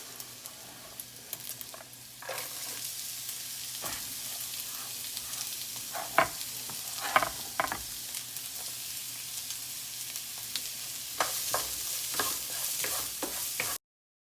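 Onions fry in rendered bacon fat for fried rice, giving a steady sizzle throughout with repeated sharp scrapes and clacks of stirring, close and fairly loud, with no talking.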